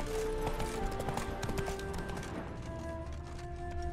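Steady clip-clop of the horse Roach galloping in The Witcher 3, a rhythmic hoofbeat under background game music.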